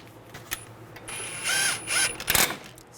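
A ratchet clicks in short bursts while brake caliper bolts are started on a 2017-2022 Honda CR-V during a front brake replacement, close and fairly loud with brief pauses between the runs of clicks.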